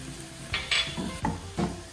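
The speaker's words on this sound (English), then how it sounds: "We'll saute our garlic for a minute, and immediately we are adding onion and chopped celery." Garlic, onion and chopped celery sauté in a pan with a soft sizzle, interrupted by several sharp clinks and scrapes of a utensil against the pan. The sounds are fairly close, with no talking.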